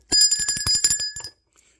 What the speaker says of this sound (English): As a matter of fact, I'm going to ring the bell for that.